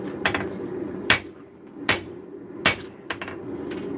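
Hammer blows on a knife blade at the forge while drawing out the bevel: four sharp metallic strikes spaced unevenly, with a couple of lighter taps, over a steady low hum.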